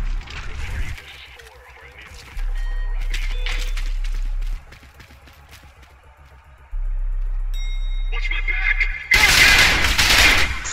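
Bursts of automatic gunfire from the shooter video game Trepang 2, with a loud, dense volley near the end and quieter scattered shots and game sounds before it.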